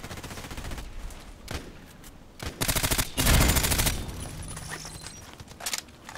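Rapid automatic gunfire rings out in a video game match, loud bursts of closely spaced shots that stop and start, with a long sustained volley in the middle and quieter gaps between.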